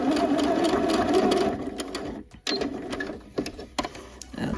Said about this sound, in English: now that I'm still here at the sewing machine, I'm gonna go ahead and baste across the side and the top